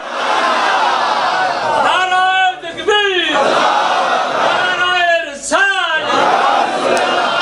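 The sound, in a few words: crowd chanting religious slogans at a mehfil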